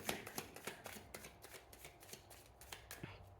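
Deck of cards being shuffled for a spirit message reading, a quick run of soft riffling snaps and taps up close, faint and steady, with no talking.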